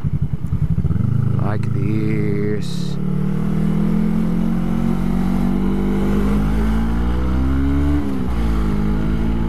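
A Kawasaki GW250 motorcycle hums loudly and steadily while filtering between cars in traffic, with engine pitch shifting as it rides, close to the microphone, and a rider speaking over the engine.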